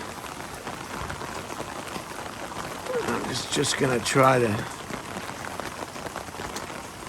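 Rain patters steadily onto a Southern California garden at night, heard from under a large umbrella, while someone talks over it in the middle stretch.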